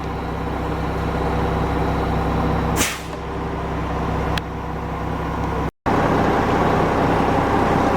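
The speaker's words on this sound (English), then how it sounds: "Yeah, the big truck. Big truck." A big concrete truck's engine rumbles steadily nearby, broken by one sharp, loud air brake hiss, then a faint click and a brief dropout.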